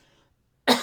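A single sharp, dry cough from a dry throat bursts out near the end after a stretch of near silence.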